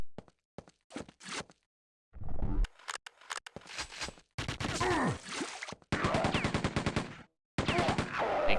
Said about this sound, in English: who else is shooting at me?